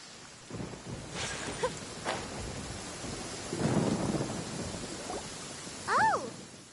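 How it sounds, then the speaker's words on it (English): Rain falling steadily in a Genshin Impact thunderstorm, with low distant thunder rumbles swelling in the middle and a brief tonal chirp near the end. "Where is the storm headed?"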